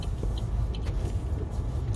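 Traffic in Old Town Hardy, Arkansas, where many cars are passing: a steady low rumble of vehicles rolling by nearby, continuous and fairly loud throughout the short stretch with no talk.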